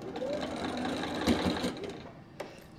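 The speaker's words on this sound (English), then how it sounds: "I'm going to start sewing my block," A sewing machine runs steadily while stitching a quilt block, a close whirring hum for about three seconds with a slight bump near the end.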